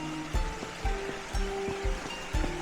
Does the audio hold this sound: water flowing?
yes